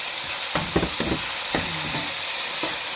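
Tomatoes with dry red chillies, salt and masala sizzle steadily in a pan while preparing taramira saag, with a spoon scraping and stirring in several short bursts over the constant frying hiss.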